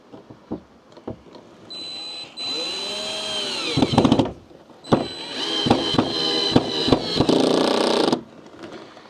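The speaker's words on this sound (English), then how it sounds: "I'll put a screw in here." A power drill drives a screw in several bursts: short whining runs that rise and fall in pitch, separated by pauses and clicks, loud and close.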